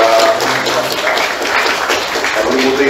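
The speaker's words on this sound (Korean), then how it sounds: "우리 박수로 한번 환영합니다." A church congregation applauds to welcome a member back after illness, producing steady, loud, sustained clapping that fills the hall throughout.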